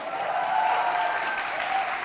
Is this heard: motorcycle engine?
no